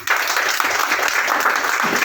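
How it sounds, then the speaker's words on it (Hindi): An audience gives loud applause for Raj sir at a business gathering, a steady wash of clapping from many hands lasting the whole moment. "तो राज सर के लिए जोरदार तालियां।"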